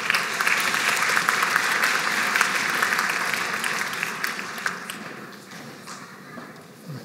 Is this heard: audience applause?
yes